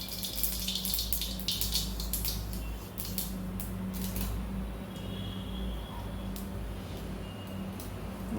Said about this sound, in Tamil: ஓகே, எண்ணெய் சூடாக ஆரம்பிச்சிருச்சு. கடுகு போட்டுடலாம்.